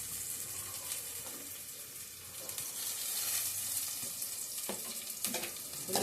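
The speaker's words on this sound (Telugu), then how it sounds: "ఆయిల్ వేడెక్కాక ఇందులో ఉల్లిపాయ, పచ్చిమిర్చి వేసేసి బాగా వేగనియాలి" Onion and green chillies frying in hot oil, a steady close sizzle and crackle running throughout with occasional stirring scrapes.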